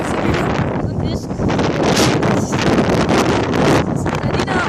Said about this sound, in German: Wir sind hier gerade auf dem Feld und es ist total stürmisch.